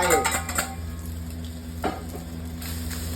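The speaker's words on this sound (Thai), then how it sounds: "พอเราผัดไข่ทุกอย่างเริ่มสุกนะครับ เราก็จะใส่ ตัวข้าวผัดของเราลงไป" Fried rice is stirred with egg in a hot pan, bringing a steady sizzle and a few sharp metal spatula scrapes and clanks against the pan, one cluster at the start and another partway through, with no talk.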